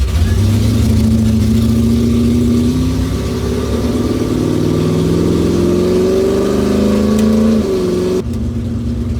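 A 1965 Chevrolet Impala SS makes a drag racing run, its engine roaring loud and close for the whole stretch, the pitch climbing through gear changes before easing near the end.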